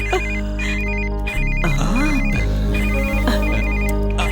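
A telephone rings at home with a rapid, trilling electronic warble repeating in regular bursts, loud and close, over a low steady hum and a brief gliding tone.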